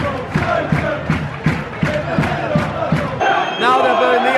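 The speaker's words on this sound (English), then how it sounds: "Now they're booing the Yeovil players." Notts County football crowd booing the visiting Yeovil players at kickoff, a dense, loud stadium roar with rhythmic surges of massed voices, swelling louder near the end.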